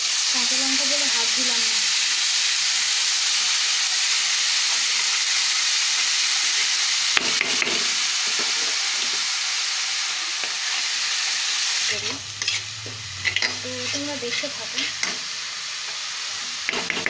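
Spices fry in hot oil with a little salt, giving a steady close hiss and sizzle with the scrape and clatter of stirring; a voice speaks faintly at the start and again near the end.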